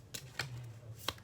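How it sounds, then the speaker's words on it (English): Tarot cards being shuffled at a Pisces reading, giving three short, crisp riffling bursts spaced across the moment over a low steady hum. "Let me shuffle one more time."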